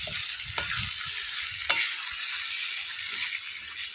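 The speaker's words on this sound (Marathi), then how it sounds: "चांगलं आपल्याला हे चिकन असं परतून घ्यायचंय" Steady sizzling of chicken frying in masala in a pan, with a couple of sharper scraping strokes as it is stirred, no voices.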